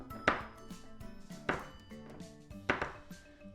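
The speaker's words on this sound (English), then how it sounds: "Now I'm going to cut thin strips of the apple." A knife chopping apple into tiny pieces on a board, three distinct firm chops at a steady pace with quiet scraping between them.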